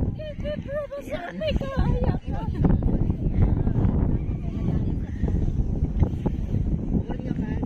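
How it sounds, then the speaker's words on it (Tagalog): Strong seaside gusts buffet the microphone in a continuous low rumble on a drizzly day at Trouville, with people talking over it at the start. "Mahangin, maambon."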